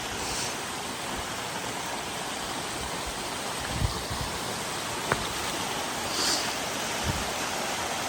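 A swift mountain stream rushes along a hiking trail, water flowing steadily and fairly close in a dense, unbroken wash, with a few small knocks and splashes over the top.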